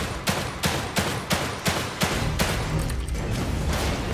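Shots from a sniper rifle in the horror video game The Evil Within 2: about seven sharp reports in a quick, even rhythm, then a steadier rumble of firing, loud and close with no talk.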